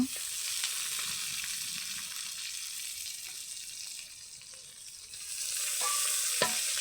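Bay leaves and ginger-garlic paste fry in hot oil with a soft, even sizzle, punctuated by occasional light clinks and scrapes of stirring, fairly quiet throughout.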